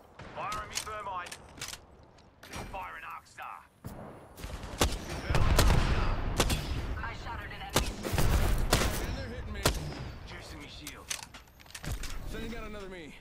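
Gunfire in the Apex Legends battle royale game, sharp bursts of shots and rapid fire layered with loud explosive booms and mechanical clanks, while a voice talks over the action.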